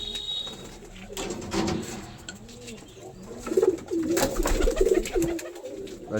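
Home pigeons kept for sale coo in low, rolling phrases, with several birds calling close by and overlapping in a steady, moderately loud run of soft warbling notes with no talk.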